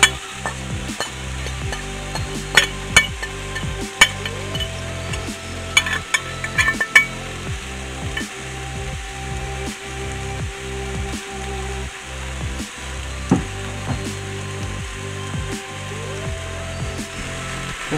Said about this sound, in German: Ich habe hier Chiliöl reingetan in die Pfanne zum Anbraten